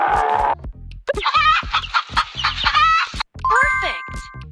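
Hen clucking sounds mixed into a cartoon-like sound effect sequence, with short bright chirpy clucks and squawks, some ringing chime tones near the end, and a brief musical tone at the start.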